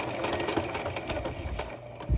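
A sewing machine stitches rope ghost fabric, a fast steady mechanical chatter close by, running continuously for a couple of seconds.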